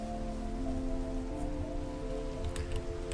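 Minecraft rain falling in a game world, a steady dense hiss of drops on surfaces continuing evenly throughout, with a faint low musical drone underneath.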